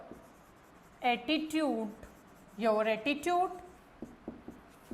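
A teacher writes on a classroom board during an English lesson, with soft scratchy strokes and taps audible between and after two stretches of the teacher's speech.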